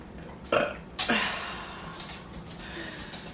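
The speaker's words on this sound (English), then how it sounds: "I keep burping" Two loud burps in quick succession, the second trailing off into a breathy tail, with faint background noise and no talking.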